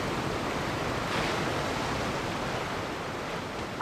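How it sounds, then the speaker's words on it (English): Steady rushing water ambience from the Genshin Impact video game, a broad continuous wash like surf or a waterfall, even in level throughout with no voices. "I'm gonna turn down the water sound effects."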